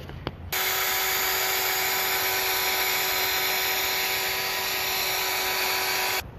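A power polisher buffs a car's 2K clear coat with rubbing compound, running as a steady, loud whine that starts abruptly after a brief click and holds even throughout before cutting off.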